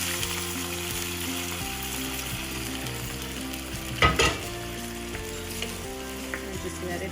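Adobo sauce hitting browned garlic in a hot pan, giving a steady, close sizzle and bubbling throughout, with a brief utensil clatter midway.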